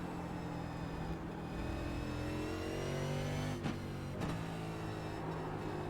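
A NASCAR Next Gen race car engine in the iRacing simulator at COTA drones steadily as the revs climb, with two brief drops at gear shifts, loud and continuous throughout.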